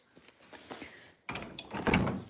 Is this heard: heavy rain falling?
no